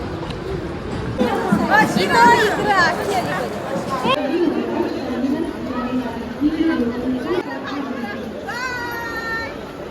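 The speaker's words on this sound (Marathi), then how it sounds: "मी इथं खाली थांबले इथं गर्दी बघा" A busy railway station crowd, with dense chatter and children's voices swirling nearby, a steady loud hubbub of many people throughout.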